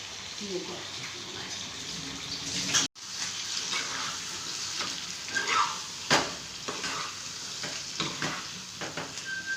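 Fish coated in masala fries in hot oil, a continuous crackling sizzle with stirring scrapes and a brief sharp cutoff near the start, while a voice is partly audible in the background.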